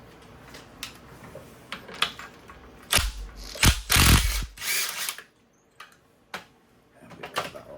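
Ratchet fitted with a 19mm socket working a coil spring bolt loose on a 2017 Suzuki Swift, heard as a series of short mechanical bursts with a louder, sustained stretch in the middle, close and without talk.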